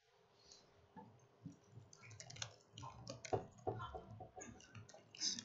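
Quiet typing of code on a computer keyboard, irregular clusters of soft key clicks and taps growing busier toward the end, close and faint, with no talk.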